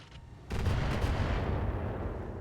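Heavy thumper turret fire in the mech game RogueTech: a loud, deep sustained roar of booming blasts that begins abruptly and rumbles on with little letup, no voices over it.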